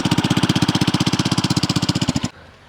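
Homemade motorbike assembled from scrap parts runs nearby with a loud, rapid, even putter of engine pulses for about two seconds, then cuts off abruptly into quiet.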